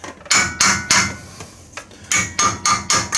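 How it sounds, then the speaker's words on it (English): Hammer tapping a rear brake caliper off the disc rotor of a GMC Sierra pickup, a string of sharp metallic knocks in two uneven groups, close and loud with no talk. "sort of gently tap the caliper off from the disc."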